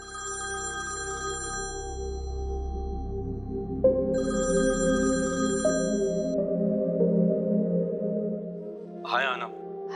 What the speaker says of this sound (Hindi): किसका फोन है रोश?